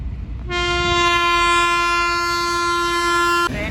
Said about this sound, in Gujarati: ટ્રેન આવી આવી ગઈ